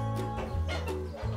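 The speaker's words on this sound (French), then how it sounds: "Voilà les oies, les canards." Geese and ducks on a Périgord farm call out nearby in short, nasal honks and quacks that overlap one another for a moment.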